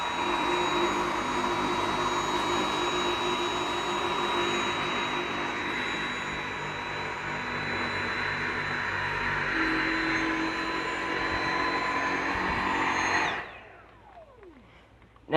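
A Dyson V7 Motorhead cordless stick vacuum cleaner runs loud and close with a steady high whine and airy roar, then powers down abruptly near the end, the motor spinning down in a falling tone before silence.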